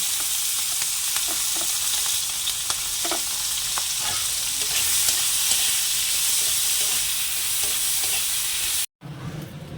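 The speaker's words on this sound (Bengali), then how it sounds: "এই যে মাছটা ভেজে চিংড়িটা চিংড়ি মাছটা ভেজে তুলে নিয়েছি" River prawns coated in salt and turmeric fry in hot oil in a kadai, giving a loud, steady close sizzle with scattered stirring clicks that stops abruptly near the end.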